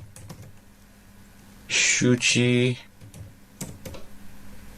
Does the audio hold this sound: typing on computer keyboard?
yes